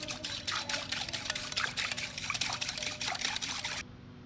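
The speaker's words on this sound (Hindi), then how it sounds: "ये आप देख सकते हैं सारा दूध हम लोगों ने इसके अंदर ऐड कर दिया था।" Milk streams into a soft cake mix of sugar and water, a close, steady trickling pour lasting a few seconds before it stops abruptly, with no talking.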